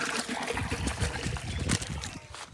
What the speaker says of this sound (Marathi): पप्पा इकडं पाणी भरतायत